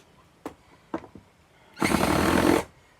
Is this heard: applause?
no